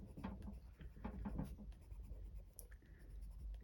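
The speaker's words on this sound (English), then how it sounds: "I suppose it depends how you hold your pencils and which angles, but I find they go scratchy" Colored pencils scratch across paper while coloring edges, giving a soft, continuous rasp of close, quiet strokes that repeat steadily with no talking.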